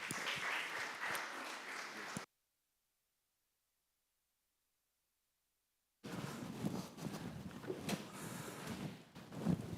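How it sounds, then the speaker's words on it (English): Audience applauding at the Transform Westside Summit, a burst of clapping, then a gap of silence, then clapping resuming with crowd noise, moderately loud throughout. "Give yourselves a round of applause."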